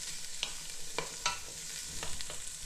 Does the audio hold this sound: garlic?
yes